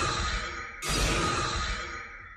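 Jumpscare sound from the horror video game Five Nights at Candy's for the animatronics Candy, Cindy and Chester: a loud, dense harsh screech with rumble that abruptly surges even louder partway through and holds for about two seconds, with no talk.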